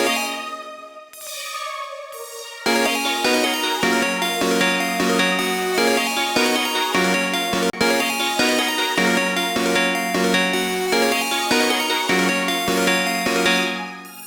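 A second synth lead playing longer sustained notes in FL Studio, built for an underground-style beat, rings out over a steady backing with a dense, bright tone and regular note changes throughout.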